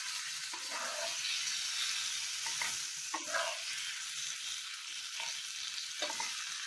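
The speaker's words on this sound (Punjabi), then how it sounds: "ਮਸਾਲਾ ਭੁੱਜ ਗਿਆ, ਇਹਦੇ ਵਿੱਚ ਹੁਣ ਅਸੀਂ ਫਰਾਈ ਕੀਤੀਆਂ ਮਿਰਚਾਂ ਪਾ ਦਾਂਗੇ।" Fried chilies stirred into sizzling spice masala in a pan, giving a steady close frying sizzle with intermittent scraping and stirring strokes throughout.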